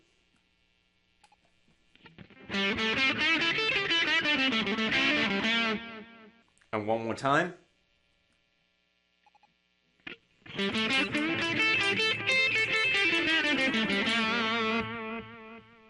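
An electric guitar plays through a Vox amPlug 2 AC30 headphone amp, two strummed passages of distorted, effected chords separated by a short burst and a pause, with a brief spoken phrase between.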